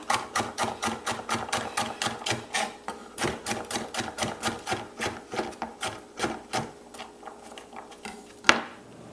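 Callaloo stems are chopped finely with a knife on a cutting board, a quick, steady run of close, crisp strikes that pauses briefly midway, then ends with one sharper knock.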